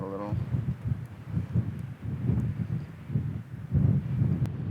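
Strong Wyoming wind gusting around 40 miles per hour roars and buffets the microphone in uneven gusts, a low rumbling surge that swells and eases throughout.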